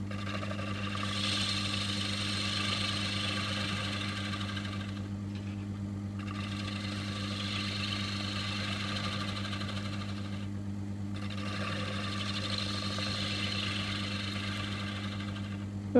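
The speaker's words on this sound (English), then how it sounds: "I think I'm taking this off with a, looks like a spindle gouge, 1/2 inch spindle gouge" A wood lathe spins a plate as a 1/2 inch spindle gouge cuts into it, giving a steady motor hum under a rough scraping rasp that twice pauses briefly.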